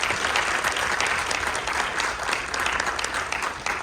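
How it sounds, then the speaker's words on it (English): A crowd at a congressional town hall claps for the representative's staff in a dense, sustained round of applause, even and full throughout with no talk on top. "So may I give a round of applause for my team."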